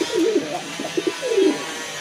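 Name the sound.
pigeons cooing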